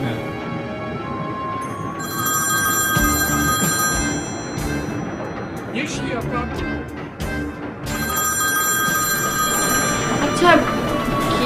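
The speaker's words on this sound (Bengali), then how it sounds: "আচ্ছা, কেউ যখন ফোনটা ধরতেছে না, এতক্ষণ ধরে বাজতেছে, আমি যাই ফোনটা ধরি।" A landline telephone rings in repeated bursts for a long stretch, fairly close and clear, with voices and background sound in a home setting.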